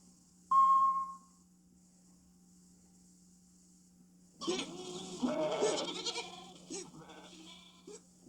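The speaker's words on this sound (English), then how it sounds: "The broomstick jumped once and made a noise like a baby goat with the hiccups." A brief high beep, then after a pause a wavering, goat-like bleating cry with stuttering, hiccupy breaks.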